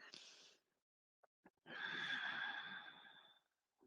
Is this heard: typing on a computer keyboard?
no